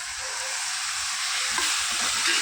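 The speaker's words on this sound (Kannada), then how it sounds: "ಸ್ವಲ್ಪ ಫ್ರೈ ಆಗಬೇಕು." Prawns frying with spice powders for biryani give a steady, close hiss and sizzle that holds level throughout, with faint stirring scrapes underneath.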